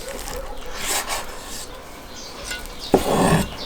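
Knife slicing through pork head brawn (saltison), soft rasping strokes against a board, a few close cuts with one sharper scrape near the end.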